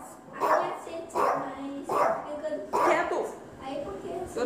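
A jealous dog barks in repeated loud bursts at bath time indoors at home, several barks spaced about a second apart, close to the listener.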